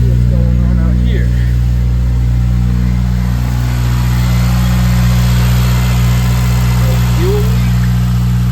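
8th-generation Honda Civic Si engine with its supercharger and serpentine belt removed idles steadily and loudly up close, a constant low rumble filling the whole stretch with a few faint background sounds.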